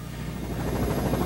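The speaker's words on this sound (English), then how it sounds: "he is rescued by helicopter" A rescue helicopter in flight produces a continuous low rotor rumble with a faint rhythmic thumping, steady and unbroken throughout.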